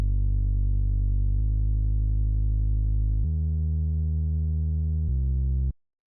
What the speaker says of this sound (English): All it is it's just a square wave in analog going into a low-pass filter with no envelope